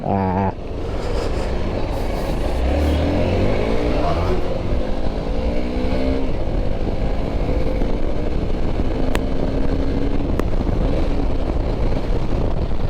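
A 2023 Hero Xpulse 200 4V Pro Rally Edition motorcycle rides steadily and loudly nearby, engine pitch sweeping as it downshifts into second gear, with constant wind rush throughout.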